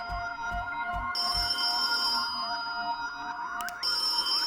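A telephone rings repeatedly in a horror video game, a bright electronic trill that repeats in bursts over quiet low thuds, with no voices.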